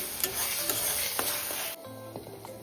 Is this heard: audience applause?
no